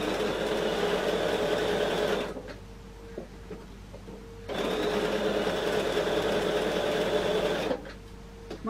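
A sewing machine stitching machine embroidery runs in two steady bursts, not at full speed, stopping briefly in between with faint handling clicks, close and fairly loud.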